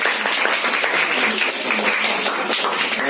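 Students clapping for a classmate at a school science lab activity, producing a dense, steady wash of applause throughout, fairly loud and close.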